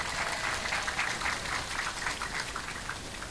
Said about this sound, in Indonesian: Tepuk tangan dulu dong buat lurae.